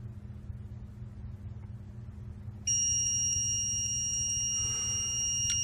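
A steady low engine rumble runs throughout, then a loud continuous electronic load-indicator alarm tone on a Shuttlelift or Grove carry-deck crane switches on partway as the boom angle increases and keeps sounding to the end.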